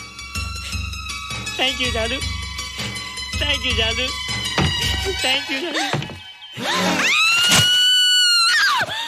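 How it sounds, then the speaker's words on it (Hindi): A woman screams in a Hindi film scene, a loud, sustained, wavering cry that bursts in near the end after a stretch of music and singing and carries through to the close. "माँ चिल्लाओ मत"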